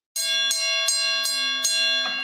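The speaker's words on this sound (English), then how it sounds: "hit the Ali bell for the 5th anniversary" A ringing bell struck repeatedly as a tribute to boxer Muhammad Ali, about five loud metallic clangs at an even pace, each blow renewing a sustained, shimmering tone that never fully decays.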